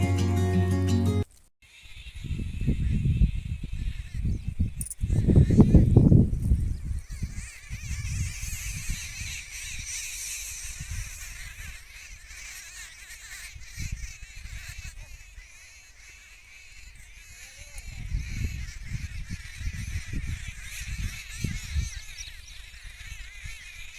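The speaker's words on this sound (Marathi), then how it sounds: "शेतात काम करत असताना पक्ष्यांचा किलबिलाट बघा किती छान ऐकायला मिळतोय" Birds call faintly in the distance in a farm field, with occasional crow-like caws, over low rumbling and handling noise outdoors.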